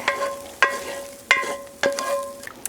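Onions and garlic go into a chicken noodle soup pot on the stove, giving four sharp clanks of a utensil against the pot, each trailing off into ringing and a soft sizzle, close up with no talking.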